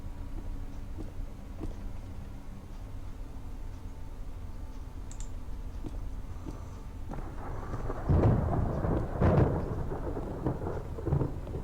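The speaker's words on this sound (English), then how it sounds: "It's raining outside" Video game rain falling steadily outdoors, with low rolling thunder that swells into louder rumbles near the end, no talking.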